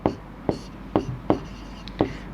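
Chalk or marker taps and scratches across a board during a class 10 coordinate geometry maths lesson, a handful of sharp strokes spaced roughly half a second apart, close and fairly quiet.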